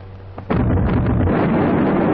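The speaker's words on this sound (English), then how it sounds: "the gun is elevated to its firing position" A main battleship gun aboard HMS King George V fires with a sudden, very loud blast that swells into a sustained, heavy, rumbling roar lasting to the end.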